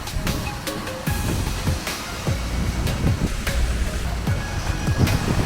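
Waterfall in Iceland roaring as a steady broadband rush, close and loud, with wind buffeting the microphone and a few soft thumps.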